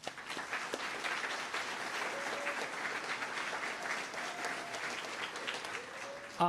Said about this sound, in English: So a huge round of applause for her as well